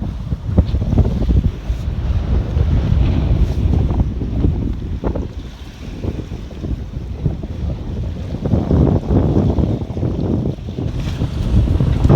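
Strong, gusty wind buffets the microphone in a steady roar while sailing off Rhodes, with rushing water and hull noise beneath, swelling and easing throughout.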